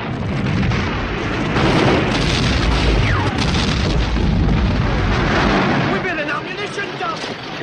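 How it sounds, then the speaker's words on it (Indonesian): A massive explosion of an ammunition supply along a bridge in wartime, a dense, sustained roar of blasts and rumbling detonations that fills the scene loudly before easing off, with a voice talking over it. "Ini menyebabkan ledakan dahsyat di sepanjang jembatan."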